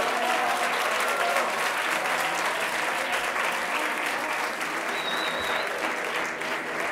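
Sustained audience applause at a university graduation ceremony for a master's class, a dense, even roar of many hands clapping in a large hall, steady from start to finish.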